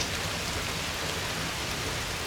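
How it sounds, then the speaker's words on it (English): Steady heavy rain pouring during a storm that followed an Illinois derecho, a dense continuous hiss with low rumbling underneath, constant and close with no pauses. "this ideal rain and thunder for sleeping"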